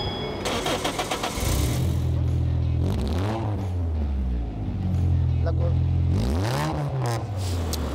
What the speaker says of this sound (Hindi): आपने आवाज़ से तो अंदाज़ा लगा लिया होगा कि इंजन कितना पावरफुल है।